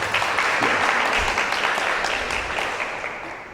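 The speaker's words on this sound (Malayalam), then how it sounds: "ഒരു കയ്യടി കൊടുത്തേ പിള്ളേർക്ക്" An audience at a sisters' retreat in Kollam applauds children, a dense burst of clapping that stays loud and then slowly fades over a few seconds.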